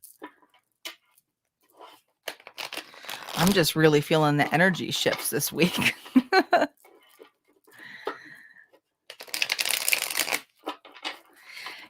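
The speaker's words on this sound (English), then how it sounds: "Let me just shuffle one more time." Tarot cards are shuffled by hand during a reading, giving soft riffling and crinkling bursts. Someone speaks between and over the shuffles.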